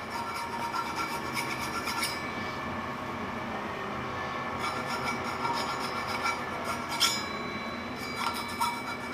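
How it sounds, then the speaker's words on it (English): Hand file worked along the edge of a turned brass impeller, a continuous rasping scrape with faint repeated strokes and a few sharper metallic ticks, fairly close, no speech. "So I'm going to do that, do a little bit of hand filing, and we'll take it off there."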